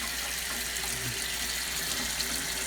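A tap fed by a well pump runs steadily in a house during -40 weather, giving a close, constant splashing hiss with no voices over it.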